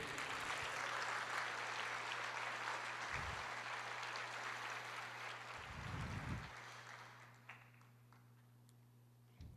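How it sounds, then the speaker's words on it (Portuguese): At a Portuguese-language sermon, a congregation applauds in a broad, steady wash of clapping that holds for several seconds, then tapers off and dies away, with a few low thumps breaking through. "Você pode aplaudir o Senhor e dizer: eu creio."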